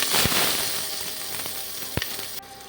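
Chopped onion hits hot oil with a bright, loud sizzle and sharp pops, the hiss easing gradually as it fries close by, with no one talking.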